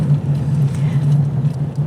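A car carrying seven people hums along the road with a steady low engine drone and faint cabin noise throughout.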